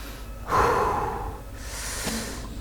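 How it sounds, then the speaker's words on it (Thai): A nervous streamer playing the horror game Outlast takes a long, deep, audible breath close to the microphone, followed by a softer breath out and a quieter second intake. "หายใจก่อนแป๊บนึงขอหายใจก่อน"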